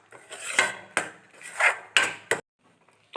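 A spoon scrapes and stirs thickening pera milk sweet in a metal kadai, giving several sharp, close scraping strokes in an uneven rhythm, followed by a brief quiet gap near the end.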